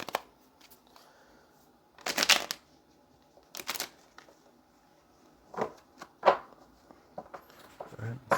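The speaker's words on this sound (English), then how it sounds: "Let's get one more shuffle and then go ahead and get our cards from Spirit" Tarot cards being shuffled in bursts, with several short riffling flurries separated by quiet gaps, close and moderately loud; faint background noise in between.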